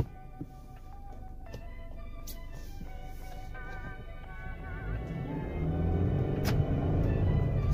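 A 2020 Subaru Forester's engine revs and builds steadily in Sport Sharp mode, its rising drone growing louder and fuller as the vehicle accelerates.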